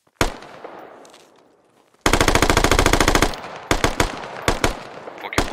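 Automatic gunfire in the zombie shooter game Squad Zombies: a single loud shot opens, then after a pause a dense sustained burst of rapid fire, followed by several separate sharp shots.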